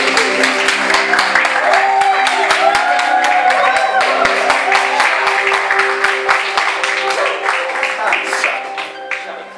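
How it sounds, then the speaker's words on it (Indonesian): Wedding guests at a holy matrimony service applaud the newly declared couple, loud, sharp clapping that is crisp and dense, with crowd voices mixed in, tapering off toward the end. "Kita berikan tepuk tangan."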